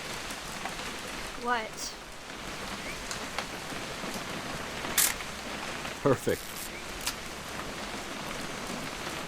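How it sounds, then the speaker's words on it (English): Steady rain patters down on surfaces throughout a scene in the video game What Remains of Edith Finch, forming a constant wash under a few brief voices and scattered clicks and bumps. "It's gonna rain the whole weekend, isn't it?"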